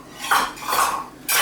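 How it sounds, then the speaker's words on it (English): Dishes and cutlery clatter as they are stacked into the washing-up in a home kitchen, several short clinking bursts close by. "Oh, Perry, can you put them in the wash up, please?"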